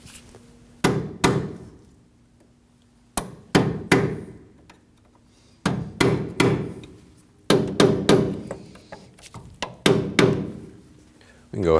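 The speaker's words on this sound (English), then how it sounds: "you can use a hammer and a flathead to just bop it in" Repeated metallic hammer strikes on a flathead screwdriver in quick clusters of two or three, each ringing briefly, tapping a C-clip into place on a Ford F-150 front lower ball joint, with pauses between bursts; close and fairly loud.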